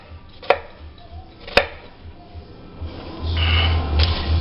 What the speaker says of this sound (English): one of my ingredients is just regular old sweet onions. We're going to go ahead and cut that real quick here for you.